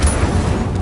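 An Incendio fire spell is cast in Hogwarts Legacy, a brief loud whooshing burst of rumbling flame that lasts under a second.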